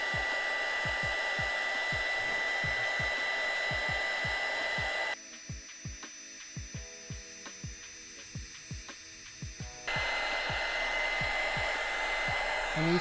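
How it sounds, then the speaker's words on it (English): A craft embossing heat tool blows hot air to melt embossing powder, giving a continuous whirring blower drone that drops lower partway through and then returns, with rhythmic ticking underneath. "I call it a craft dryer because I use it to dry everything"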